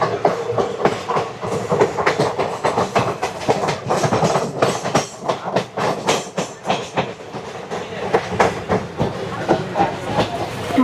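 Kanchanjangha Express running into Malda Town station on the Sealdah to Guwahati route, with a steady loud rumble, rattling and rhythmic clickety-clack of the coaches rolling over rail joints, plus hiss throughout.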